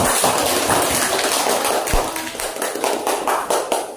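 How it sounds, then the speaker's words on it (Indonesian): A classroom audience claps for a student group after its presentation, a dense, steady patter of many hands lasting several seconds with no talk over it. "Beri aplaus untuk kelompok 1."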